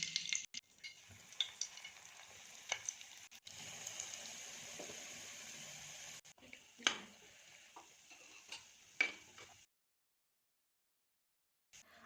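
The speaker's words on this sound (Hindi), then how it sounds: "क्योंकि हमको ब्रेड को शैलो फ्राई करना है" Bread slices shallow-fry in hot ghee in a pan for shahi tukda, giving a steady soft sizzle with occasional clicks and taps. The sizzle cuts off abruptly into near silence.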